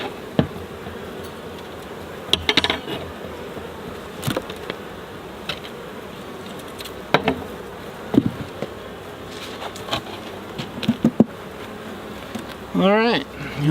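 Honeybees hum steadily around an opened hive infested with small hive beetles, with occasional sharp knocks and clicks from frames being handled and a brief louder rustle near the end.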